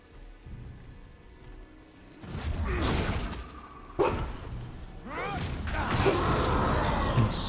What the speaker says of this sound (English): Sorry about the dog barking there.